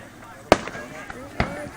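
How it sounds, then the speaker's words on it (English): Fireworks bursting over a lake, three sharp booms spaced across a couple of seconds with faint crackle in between, fairly close and loud against a quiet outdoor background. "Still, enjoy the fireworks."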